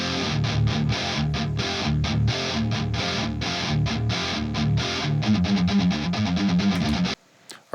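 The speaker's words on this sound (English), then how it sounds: "They added in the 2 Bogner amps for the high sizzly part of the tone." Heavily distorted electric guitar through two Bogner amps chugging a driving riff with a bright, sizzly top end, played continuously before stopping abruptly near the end.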